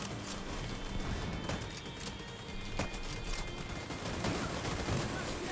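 Gunfire from a raid in the video game The Division 2, a dense, continuous barrage of rapid shots and crackling impacts that holds steady at moderate loudness throughout.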